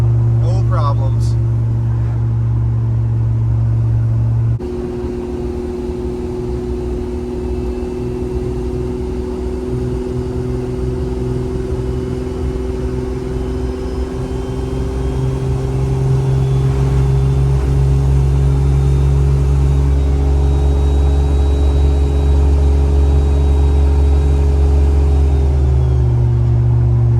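A Jeep Cherokee with a swapped Toyota 2JZ engine cruises in third gear, giving a steady, loud engine drone with a sustained hum that holds constant throughout while someone talks over it.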